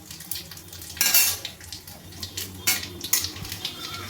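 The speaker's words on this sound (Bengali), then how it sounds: "এবার এখানে আমি ফোড়ন দিয়ে দেবো, শুকনো লঙ্কা আর কালো জিরে। ফোড়নটা একটু ভেজে নেব।" Dried red chillies and black cumin frying in hot oil in a pan, a soft continuous sizzle broken by several sharp scraping and clinking strokes of a metal spatula against the pan.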